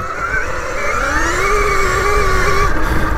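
A 2020 KTM Freeride E-XC electric dirt bike motor whines as it spins up, a thin rising electric tone over steady wind rush, close and continuous for a few seconds.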